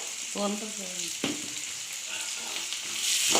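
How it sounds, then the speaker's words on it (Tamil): Onions salted in a pan for a carrot and beans poriyal fry with a soft, steady sizzle, a few stirring scrapes and a utensil tap, faint and close. "வெங்காயத்தை இந்த மாதிரி ஃப்ரை பண்ணிக்கோங்க"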